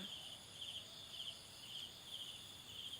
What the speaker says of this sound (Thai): มีแมลงบินอยู่นะคะ เนี่ยแบบนี้นะคะ